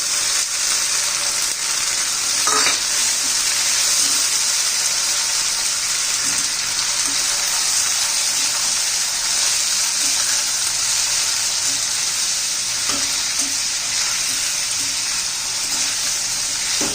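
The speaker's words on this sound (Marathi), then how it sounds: "चांगली दोन चार मिनटं मी आता परतून घेते" Cluster beans (guar) sautéing in a pan with onion and tomato masala, a steady loud sizzle and hiss running throughout with an occasional faint stirring knock.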